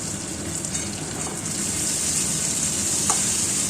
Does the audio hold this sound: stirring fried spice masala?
yes